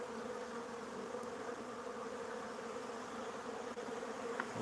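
Honeybees buzz steadily at a backyard hive, a dense, even drone that stays faint and continuous with no voices over it.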